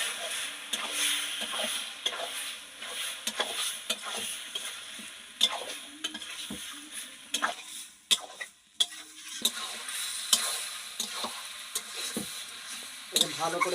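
Meat sizzles in hot oil while a spatula stirs and scrapes the pan in irregular bursts, fairly quiet and close, with a voice talking over the cooking.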